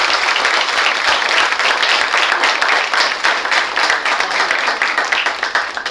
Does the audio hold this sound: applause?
yes